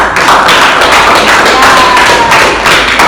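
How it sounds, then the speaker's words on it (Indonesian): Classroom audience applauding after a student group presentation, a dense steady patter of many hands clapping for about three seconds, fairly loud and close. "beri aplaus terlebih dahulu"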